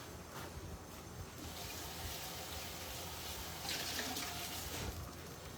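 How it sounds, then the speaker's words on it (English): Paneer rinsed under a running kitchen tap: a steady, even hiss of water falling into a sink, with a slightly brighter splash swell near the end, no voices. "I'm going to rinse it one more time."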